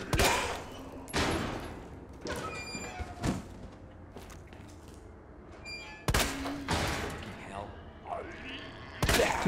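Loud bursts of rapid gunfire in several volleys with short gaps between them in Resident Evil 2 Remake, with voices talking in Russian underneath.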